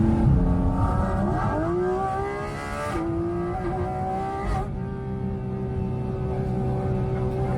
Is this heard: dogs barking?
no